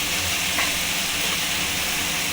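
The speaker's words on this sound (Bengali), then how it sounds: "পেঁয়াজটা তাড়াতাড়ি ভাজা হয়ে যাবে।" Sliced onions with a pinch of salt fry in a hot pan, giving a steady, dense sizzle at close range with no pauses, while a chicken kasha is being cooked.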